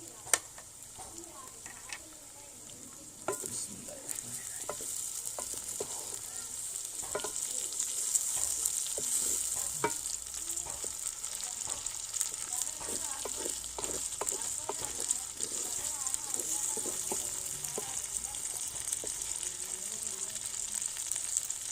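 Chopped tomatoes and green chilies fry in a pan with a steady, close hiss and crackle that runs unbroken, punctuated by scattered pops and soft stirring knocks, and a faint voice speaks now and then.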